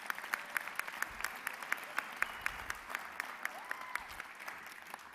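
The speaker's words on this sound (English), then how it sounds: "Give you a round of applause." Audience applause at a film festival awards ceremony, a sparse, faint patter of clapping with a few distinct sharp claps standing out, heard from a distance in a large hall.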